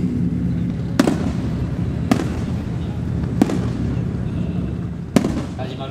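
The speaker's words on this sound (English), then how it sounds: "So you got a night of it, you can do fireworks." Fireworks burst at night over an all-night drifting event in the mountains of Japan, four sharp distant pops spaced a second or so apart over a steady rumbling crowd-and-engine background.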